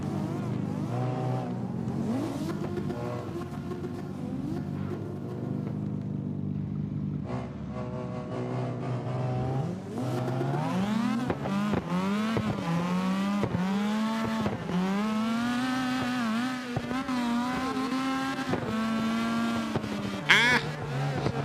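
Drift car engines rev and wail in a racing video game, with sustained rising and falling engine tones and brief tire squeals running throughout, near and loud.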